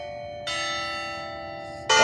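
Church bell tolling, two clear resonant strikes with a long ringing hum sustained between them, loud and close with no other sound around.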